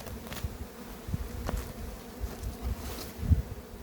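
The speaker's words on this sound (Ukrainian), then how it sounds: "Зараз побачимо, як її тягнуть бджолки." Honeybees buzzing around a hive frame with wax foundation, a steady close drone with individual bees passing near and swelling briefly louder, and no talking over it.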